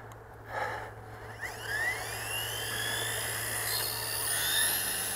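Small XK K120 RC helicopter spooling up, a faint high rising whine with a steady electrical hum beneath, climbing in pitch after brief handling noises at the start.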